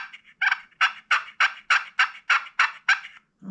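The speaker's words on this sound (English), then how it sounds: "This one is a Quaker boy. I call these push calls, push-pull calls." A Quaker Boy push-pull turkey call worked by hand, producing a close, loud series of about ten evenly spaced yelps, each one a sharp raspy note.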